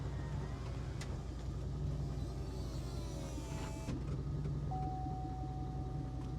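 A Chevy SSR convertible truck's retractable hardtop roof runs with a steady electric motor whine and mechanical hum, a clunk partway through and a rising tone near the end, heard close and moderately quiet.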